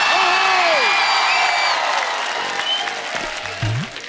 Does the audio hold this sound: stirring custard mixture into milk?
no